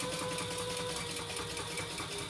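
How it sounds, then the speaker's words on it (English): A sewing machine back stitches along the edge of a small wallet with slip and card pockets, a steady close, continuous motor whir and needle chatter with no talking. "I'm back stitching."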